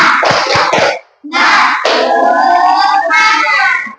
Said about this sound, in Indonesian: Kita akan mengadakan tepuk semangat.